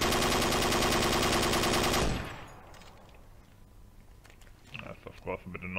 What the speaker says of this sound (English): I think those are new firing sounds.